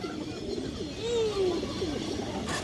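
A female pigeon of an old bloodline gives a short, low coo against a busy background hum, the call rising briefly to a clear note and then trailing off.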